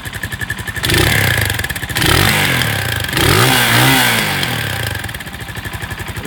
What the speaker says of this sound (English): It has a dirt bike or, tractor sound to it, a little agricultural because of that single cylinder